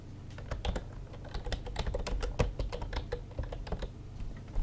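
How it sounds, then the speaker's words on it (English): Rapid typing on a computer keyboard, a steady stream of crisp, close key clicks with irregular rhythm and no speech. "I'm going to type it"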